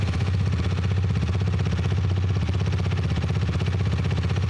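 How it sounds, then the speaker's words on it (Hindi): A KTM Duke 250 motorcycle idles after a single-press electric start, its single-cylinder exhaust thumping in a fast, even rhythm, close and loud, with no talking. "भाई सिंगल सेल्फ में बाइक स्टार्ट हो गई है एंड एग्जॉस्ट नोट आप सुन सकते हैं।"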